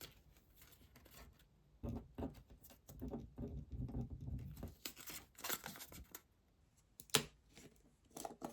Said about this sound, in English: I have many notepads that I can rip up